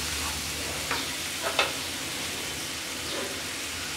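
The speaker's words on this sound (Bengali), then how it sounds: "এবার একটু নেড়ে দিচ্ছি।" Turmeric and spices fry in a pan for rohu fish bhuna, a steady soft sizzle with a few faint scraping stirs from a utensil, close and fairly quiet, with no talking.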